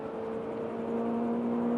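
An Alpine F1 car driven by Fernando Alonso on the Le Mans circuit gives a steady high whining engine tone from onboard, constant and even throughout.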